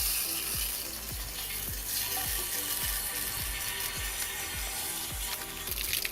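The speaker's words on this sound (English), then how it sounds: "most of the junk comes out when I drain the water heater" Water drains from the water heater of an Arctic Fox truck camper, a steady close rushing flow broken by rhythmic splashy gurgles about every half second.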